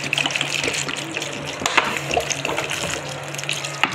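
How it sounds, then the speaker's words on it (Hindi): Water gushes and splashes into a bowl of fried lentil fritters, a steady liquid rush with small clinks and bubbling throughout, close and fairly loud with no talk. "देखिए बड़े में पानी डाल लेते हैं।"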